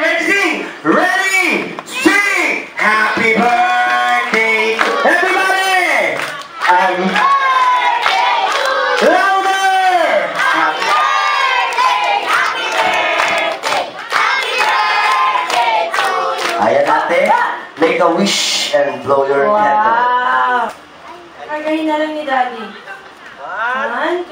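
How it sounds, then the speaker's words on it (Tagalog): Guests at a child's seventh birthday party shout and cheer together loudly with some clapping mixed in, many voices rising in sustained chant-like bursts close by before easing off near the end. "lalagyan natin ng palakpak. na yung malakas sabay-sabay"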